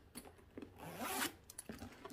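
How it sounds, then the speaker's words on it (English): A zipper on a Michael Kors bag is pulled open in a few short scratchy bursts, with one longer continuous drag in the middle, close and fairly quiet. "here's the zipper."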